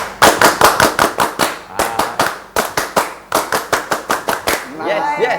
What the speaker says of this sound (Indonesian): Coba 2 kali tepuk pramuka.